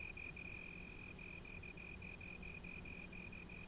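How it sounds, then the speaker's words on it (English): A slender tree cricket gives a continuous, evenly pulsed high trill with barely perceptible breaks, faint and alone against a soft hiss. "magnifying the sound made by the slender tree cricket that shapes them"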